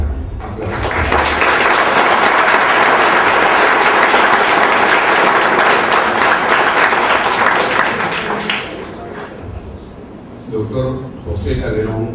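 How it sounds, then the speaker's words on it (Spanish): An audience at a university ceremony applauds a guest speaker, Dr. Hernando de Soto Polar, with sustained loud clapping for about eight seconds that then fades as a voice begins speaking. "Aplausos."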